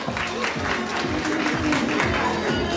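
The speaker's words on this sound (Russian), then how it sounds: "Под ваши бурные аплодисменты, Евгения." Enthusiastic audience applause greets a female singer and TV host taking the stage at a concert event, dense continuous clapping at steady loudness with voices mixed in.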